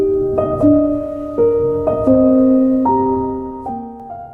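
A phone rings with an incoming call, a tonal ringtone melody of stepped, sustained notes that repeats near and clear, with no talk.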